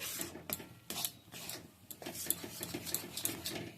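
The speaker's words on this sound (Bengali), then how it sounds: "এবার খুব ভালো করে মিশিয়ে আর ভেজে নিচ্ছি" Pea filling mixed with gram flour being stirred and fried in a pan, with repeated scraping and rubbing strokes of a spoon against the metal in a steady rhythm, close and fairly quiet.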